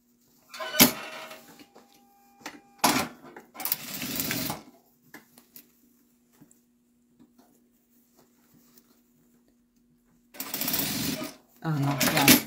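A sewing machine stitching back over fabric to reinforce a seam runs in several short bursts, loud and close, with long pauses between runs and soft handling clicks in the gaps.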